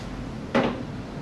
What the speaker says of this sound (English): Open up the box and get the instrument